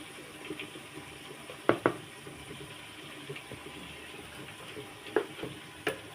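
Turmeric powder goes into hot oil that has separated from cooked-down tomato, producing a low steady sizzle with a few sharp crackles and stirring knocks close by.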